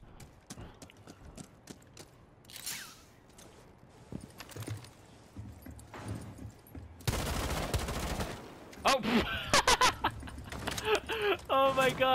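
Gunshots in Rainbow Six Siege: sparse sharp shots and clatter early on, then loud bursts of rapid fire and breaking sounds in the second half, with a person talking over parts of it.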